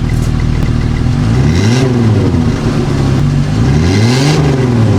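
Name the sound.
minivan engine revving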